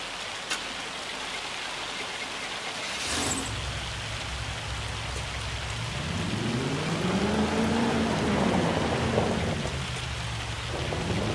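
Hail and thunder in the Farming Simulator 25 video game: a steady hiss of falling ice and rain fills the whole stretch, with a sharp crack partway through and a low rolling rumble swelling and fading afterward.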